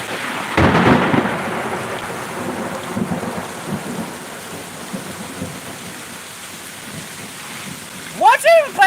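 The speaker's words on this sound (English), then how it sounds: "Is the party bus gonna get hit by lightning?" Thunder from a lightning strike during a storm: a loud sudden crack followed by a long rolling rumble over steady rain, with a voice breaking in near the end.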